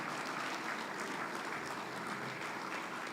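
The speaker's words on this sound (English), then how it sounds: "Let's give him another big hand of applause." Sustained audience applause at a post-budget seminar, steady and even throughout the room with no pauses or voices standing out.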